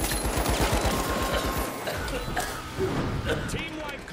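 Rapid gunfire in the video game THE FINALS, a quick burst of shots at the start followed by busy in-game action noise, with a voice talking over it.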